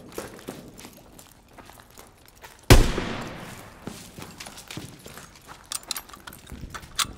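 Gunfire in the World War II shooter Call of Duty WW2: a sharp loud report that fades out, followed by scattered distant pops and clatter over quiet ambience.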